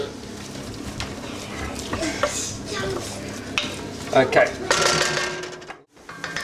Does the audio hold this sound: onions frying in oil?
yes